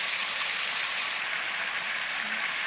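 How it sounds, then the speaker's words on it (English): Water pours into an armadillo burrow to flood it outdoors, making a constant rushing, splashing flow that holds steady and loud throughout, with no voices. "I'm going to try to flood these suckers out of here."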